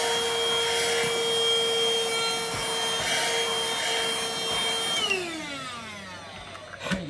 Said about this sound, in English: You just gotta vacuum it out.